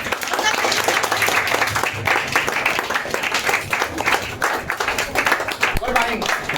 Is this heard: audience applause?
yes